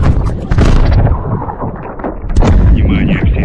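In Call of Duty: Modern Warfare 3 (2023), a heavy explosion booms and rolls on with dense rumbling debris and gunfire, loud and close, while voices talk over it.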